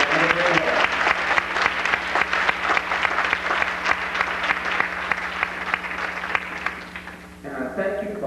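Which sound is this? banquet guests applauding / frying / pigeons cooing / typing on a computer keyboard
banquet guests applauding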